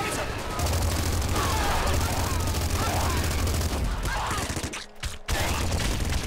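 Bullet gunfire in the video game Nuclear Throne, rapid bursts of shots layered over game sounds and effects, fairly steady throughout with a brief dropout near the end.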